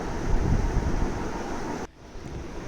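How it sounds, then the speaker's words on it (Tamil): Natural wind on a mango farm rushes into the microphone as a loud, steady roar that drops off abruptly near the end. "எவ்வளோ ஒரு சூப்பரான காற்று தெரியுமா, இயற்கையான காற்று இதெல்லாம்"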